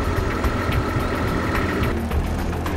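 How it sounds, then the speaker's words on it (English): A Palfinger Crayler FLG 140 field loader's diesel engine runs at a steady rough idle with a low knocking rumble, loud and close throughout. "Wait for the preheat and start the engine."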